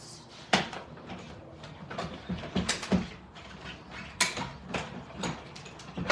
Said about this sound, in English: And then I'm just going to run it through my cutting machine and just cut that out.